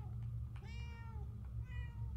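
Two drawn-out cat meows from the video game Murdered: Soul Suspect, close and clear, the first longer than the second, sit over a steady low rumbling drone, with no talking.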